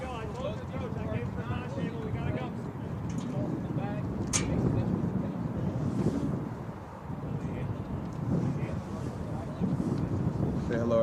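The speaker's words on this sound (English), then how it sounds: "do forgive the wind. It's a little windy." Wind buffets an outdoor microphone at an amateur soccer match, a low, steady rumbling roar with gusts, close and loud, while people talk faintly in the background.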